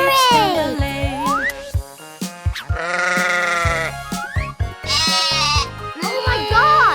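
A Cocomelon animal toy sheep plays loud electronic bleats, several wavering baa calls in quick succession mixed with cheerful nursery-song music and a child-like singing voice.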